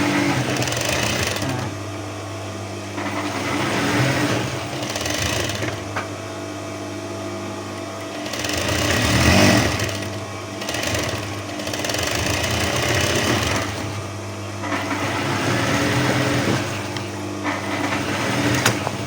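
An electric sewing machine stitching a shirt collar runs in long continuous bursts with brief pauses between runs, a steady close mechanical whir and hum with faint clatter, no talking.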